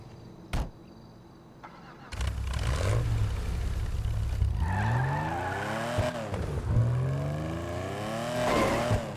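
A stock HSW car in GTA 5 Online revs hard, its engine climbing and dropping through several loud sweeping rises with brief gear-change dips, heard alone without voices.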